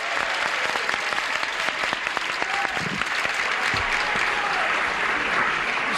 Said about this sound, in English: this crowd has to cheer down